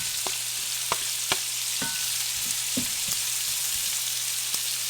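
Onion frying in a pan alongside pork belly for fried rice: a dense, continuous close sizzle with a few faint clicks and pops scattered through it, and no voices.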